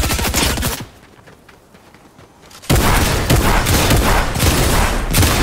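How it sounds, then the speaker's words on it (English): Heavy automatic gunfire from multiple weapons in a Fortnite match, loud dense bursts that drop briefly then resume in a sustained close barrage. "I'm getting shot out from multiple sources."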